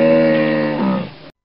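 A hippopotamus call: a single loud, close, drawn-out lowing bellow that dips partway through and fades out after just over a second, heard alone.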